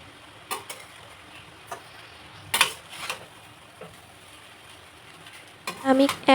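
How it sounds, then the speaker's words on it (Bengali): A spatula stirs masala rice with spices in a pot, giving a few scattered scrapes and clinks in short bursts against a quiet background, with a louder cluster of scraping near the end. "এখন আমি খুন্তি দিয়ে হালকা হাতে এগুলো নাড়িয়ে চাড়িয়ে ভালোভাবে সবগুলো মিশিয়ে নিচ্ছি।"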